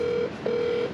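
A steady electronic telephone dialing tone plays as two long beeps separated by a short gap, clear and alone.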